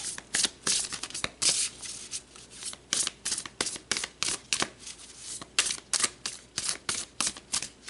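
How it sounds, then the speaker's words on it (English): Tarot cards being shuffled by hand, a rapid run of crisp riffling snaps and flutters in quick bursts, close and clear, with no talk. "let's pull another card"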